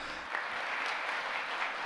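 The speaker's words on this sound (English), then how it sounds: "Let us welcome our international president with a big round of applause." An audience applauds to welcome the international president, Sun Jin-moon, at a 57th wedding anniversary gathering; steady, moderately distant clapping from a large crowd fills the short stretch without talk.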